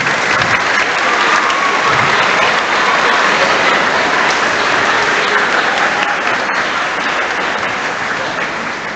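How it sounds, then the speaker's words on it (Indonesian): At a student Mass for Xaverius Pringsewu junior and senior high school, a large congregation gives a long, dense, unbroken roar of clapping that stays loud and even throughout. "Saya rasa tidak perlu tepuk tangan."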